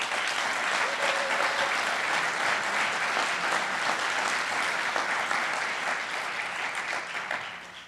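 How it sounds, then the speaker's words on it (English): An audience applauds award honorees at an alumni achievement award ceremony: steady, dense clapping from a large crowd, fairly close and even throughout, tapering slightly at the very end. "One more round of applause, please, for our amazing honorees."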